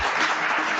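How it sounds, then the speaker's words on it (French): Supporters of a nationalist right-wing party applaud a Freemason at a political meeting, a dense, continuous wash of clapping from a crowd, steady and fairly loud for under a second. "Un franc-maçon applaudi par des frontistes, la scène est étonnante."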